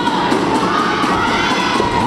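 A wrestling crowd at an indoor show cheers and shouts loudly in a dense, continuous roar of many voices, close and sustained throughout.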